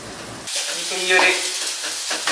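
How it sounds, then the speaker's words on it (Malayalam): Chopped onions hit hot coconut oil in a pan and start sautéing. After a quiet half second, a sudden loud sizzle bursts in and keeps hissing steadily close by. "വെളിച്ചെണ്ണയിൽ നമ്മൾ വലിയ ഉള്ളി അരിഞ്ഞത് അത് വഴറ്റാണ് നല്ലപോലെ വഴറ്റിയെടുക്കുകയാണ്"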